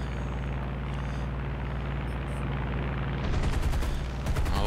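Aircraft guns fire from an F4U-1d Corsair in War Thunder realistic battle, a low steady engine drone running throughout, then a burst of rapid cannon and machine-gun shots breaking out near the end.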